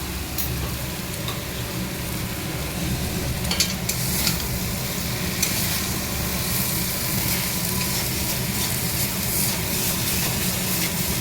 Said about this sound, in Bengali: এটা দিয়ে আর একটু ভাজবো ভালো করে, তাহলে মশলাটা আরো কষা হয়ে যাবে।